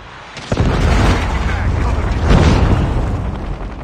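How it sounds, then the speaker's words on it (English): A predator missile strike explodes in Call of Duty Mobile, a sharp boom followed by a long, loud rumbling roar, with a second surge of blast noise partway through and game voice chatter underneath. "Friendly predator missile inbound."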